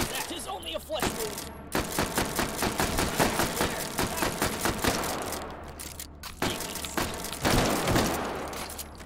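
Rapid slam-firing guns in the VR shooter H3VR crack out in a fast, steady string of sharp shots, with brief pauses and a heavier burst near the end.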